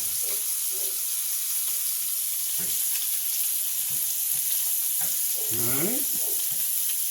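Scallops sear in a hot skillet with a continuous, bright hiss and sizzle, while someone speaks briefly and occasional low clunks and a scrape break through the frying.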